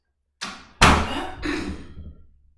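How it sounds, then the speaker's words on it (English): Door being closed indoors during a home stretching session: a soft first contact followed by a louder thudding slam with a short rattling tail, then quiet. "Close the door so it doesn't distract."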